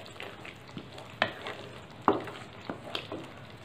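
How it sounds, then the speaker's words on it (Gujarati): Curry gravy with chopped ridge gourd (kantola) is stirred in a pan: soft, close scraping under a faint sizzle, broken by two sharp spoon clicks against the metal. No one speaks. "બધું બરાબર એક વખત હલાવી લઈશું."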